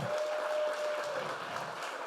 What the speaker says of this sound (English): So let's hear a round of applause for Aaron and Ryan and everybody.